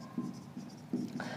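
A marker or chalk scratching on a board in a classroom lecture, several short strokes close by, with a voice speaking alongside.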